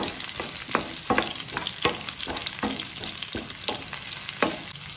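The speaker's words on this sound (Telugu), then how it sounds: "ఇప్పుడు ఈ వెల్లుల్లి రెబ్బలు పచ్చివాసన పోయేంత వరకు ఫ్రై చేసుకోవాలి" Crushed garlic cloves fry in a hot pan with a steady close sizzle, punctuated by repeated scraping stirs and taps of a spatula, no voices.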